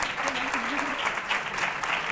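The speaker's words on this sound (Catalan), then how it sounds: "fem un aplaudiment a tots" A studio audience at a Catalan TV word-spelling quiz show claps in a steady, dense round of applause, close and even throughout, with a faint voice underneath.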